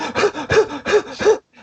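A voice imitates the heavy panting of runners pushing too hard early in a half marathon: four rapid, loud, breathy gasps in quick rhythm, then a brief pause and a faint fifth breath.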